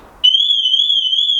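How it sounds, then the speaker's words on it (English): A McLaren 570 car alarm cuts in abruptly as a piercing, steady high-pitched tone that holds unbroken and loud after a brief quiet start. "The alarm on this car is the most disturbing car alarm in the world"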